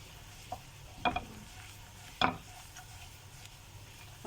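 Cornflour is stirred as it sautés in butter in a pan: a low, continuous sizzle with two or three sharp spoon scrapes standing out against it.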